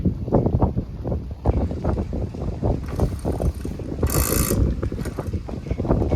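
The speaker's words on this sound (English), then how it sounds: "Hydraulic winch up here works" Hydraulic winch on a boat hauling up a bucket on rope, a close, loud, pulsing mechanical churn with ratcheting rhythm, wind buffeting the microphone and a brief bright whine partway through.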